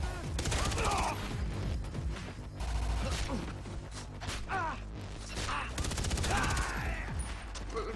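Rapid, loud bursts of gunfire from a gun in the Far Cry 3 game, repeated volleys over music and mechanical clatter, with brief voice sounds mixed in.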